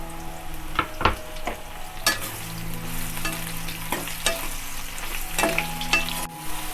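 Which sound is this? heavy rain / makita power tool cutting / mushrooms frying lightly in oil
mushrooms frying lightly in oil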